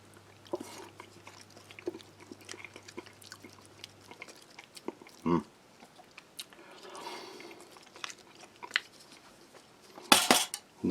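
A spoon stirs hot pepper flakes into a Turkish 24-hour chicken-menu ration meal, making quiet scattered clinks and scrapes against the container with a few louder clatters, faint and close.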